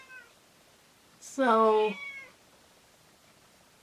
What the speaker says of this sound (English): if you can hear a cat